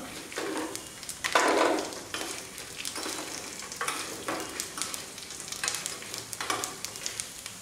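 Grated coconut fries in a pan, stirred with scraping, rustling strokes at irregular intervals over a faint steady sizzle; close up, nobody speaking.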